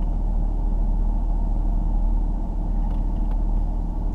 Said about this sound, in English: I've got the truck in 4 low, and I just put it into first gear